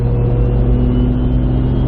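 A Toyota Supra's engine idles loudly and steadily close by, a deep droning rumble with a constant low hum and no change in pitch, heard alone.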